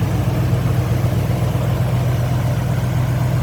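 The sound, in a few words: 1971 Buick Skylark 455 engine idling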